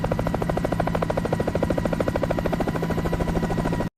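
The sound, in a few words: helicopter flying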